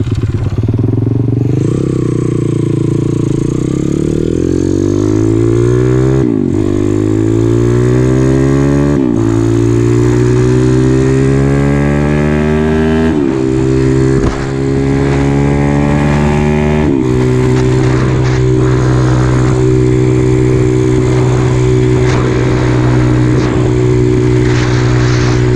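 A 212cc small engine on a ride vehicle runs steadily, loud and close, with repeated throttle blips whose pitch sweeps up and drops back, then settles into a sustained drone; no voices.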